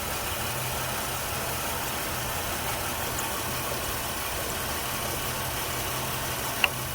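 A car engine idles steadily up close, a constant low rumble and hum with no change in pace, ending with a single small tap near the finish and no voices.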